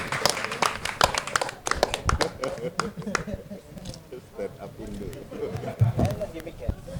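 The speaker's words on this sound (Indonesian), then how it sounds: "Beri tepuk tangan untuk Rizal Zaid." Scattered clapping from a small audience at an Indonesian stand-up comedy show, a few sharp close claps at first that thin out, with a voice talking over the claps throughout.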